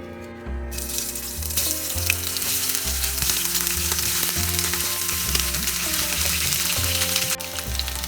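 Potatoes shallow-frying in vegetable oil over medium heat for aloo chaat give a loud, steady sizzle with faint crackles throughout, no voices present.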